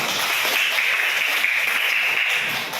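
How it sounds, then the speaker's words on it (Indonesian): A classroom group claps for a student, a steady dense wash of hands clapping together that runs evenly throughout and fades slightly at the end. "Tepuk tangan dulu buat si Agus"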